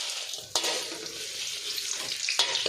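Tyson chicken frying for sukka makes a loud, continuous sizzle close by, with two sharp scraping stirs about two seconds apart.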